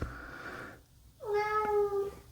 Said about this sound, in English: That's my daughter's cat.